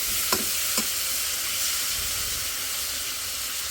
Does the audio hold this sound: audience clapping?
no